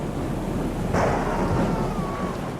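A deep rumble of thunder rolls in over a steady hiss of heavy rain, swelling suddenly and then fading into the downpour.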